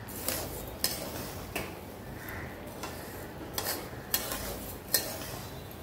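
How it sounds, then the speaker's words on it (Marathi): Coriander seeds and poppy seeds roasting in a pan for ghati masala, stirred with a spatula in a steady rhythm of scraping strokes with soft clinks, close and moderately loud, with no talk. "धने भाजत असतानाच आपण याच्यावर टाकूया खसखस"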